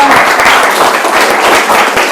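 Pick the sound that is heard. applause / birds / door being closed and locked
applause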